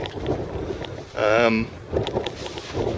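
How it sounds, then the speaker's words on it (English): Gusty wind buffets the microphone on Gorleston fishing pier by the sea, a loud rushing roar with a brief tonal whistle in the middle, under occasional faint talk. "Poxy wind."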